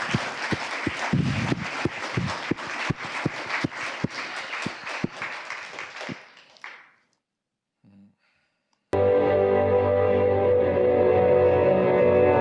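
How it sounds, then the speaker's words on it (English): An audience applauds at a public talk with steady, full clapping that fades out after about seven seconds. A short silence follows, then a sustained, humming tonal sound with no clapping. "do an applause for them, seriously."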